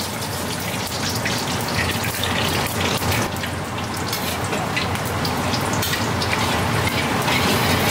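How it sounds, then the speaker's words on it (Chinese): Oil heating in a hot wok for a Chongqing-style Sichuan pepper rabbit dish, a steady dense sizzle and crackle that holds loud and close throughout, with no talking. "锅烧热了过后就下油"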